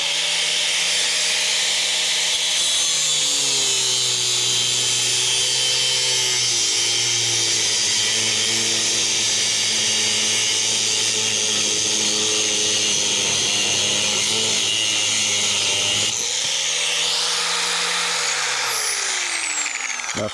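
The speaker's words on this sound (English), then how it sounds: "when you're cutting this, if you're using some kind of side grinder or something that throws in sparks everywhere" A dulling power tool blade grinds through scrap metal for an airgun target, a loud continuous whine with shifting pitch that runs steadily, briefly dips around the sixteen-second mark, then resumes.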